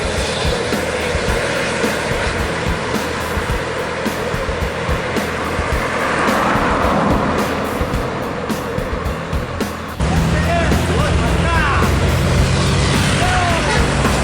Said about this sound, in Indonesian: Bus pariwisata melewati Batang Pamo.